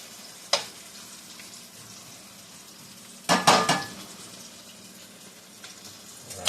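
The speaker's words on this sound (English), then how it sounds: "I'm going to use a spatula to transfer these over" Chicken and zucchini sauté in a pan with a steady, soft sizzle, broken by a sharp spatula tap early on and a louder burst of scraping and clattering near the middle, with no talking.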